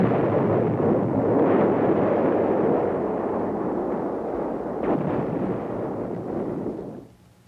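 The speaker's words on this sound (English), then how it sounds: "155 millimeter howitzer. And the new 175 millimeter self-propelled long-range gun." A 155 mm howitzer and a 175 mm self-propelled long-range gun fire. The sound is a heavy, sustained rumbling boom with a second blast partway through, fading out at the end.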